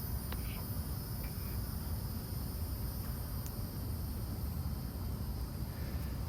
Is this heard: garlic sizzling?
no